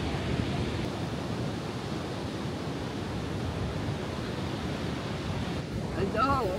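Waves roll onto a beach as a constant, broad wash of surf, with a voice briefly heard near the end.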